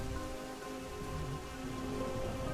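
Rain falling in The Isle video game, an even, continuous patter over a low steady background with faint tonal hum, moderately quiet and without any voices.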